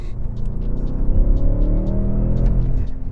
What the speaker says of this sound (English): The engine makes such an incredible note at some point.